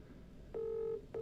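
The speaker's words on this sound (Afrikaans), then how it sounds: "Nou lei die foon," A telephone ringback tone on an outgoing call, two short steady electronic buzzes, the first longer and the second cut off, faint and alone.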